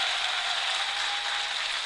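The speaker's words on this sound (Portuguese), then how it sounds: "Uma salva de palmas para vocês." Audience applause at a public event in Manaus, a dense, steady wash of many hands clapping for the whole stretch, fairly near with no voices standing out.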